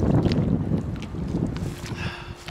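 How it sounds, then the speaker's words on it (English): Wind blows across the Osage River during a January kayak paddle against the current, a roaring gusty rush buffeting the microphone with faint water sounds beneath and no talking. "Windy though, 15 mile an hour wind coming down the river, paddling against it in the current."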